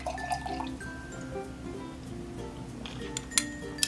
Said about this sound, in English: let's pour us up a glass of wine